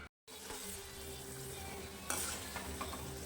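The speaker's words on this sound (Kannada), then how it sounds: "ಮೀಡಿಯಮ್ ಫ್ಲೇಮು ಅಂದರೆ ಲೋ ಫ್ಲೇಮಲ್ಲೇ ಇಟ್ಕೊಂಡು ಇದನ್ನು ಫ್ರೈ ಮಾಡ್ಕೋಬೇಕಾಗತ್ತೆ" Urad dal, chana dal and peanuts fry in a pan over low to medium flame, a steady close sizzle with stirring scrapes throughout, after a brief silent gap at the start.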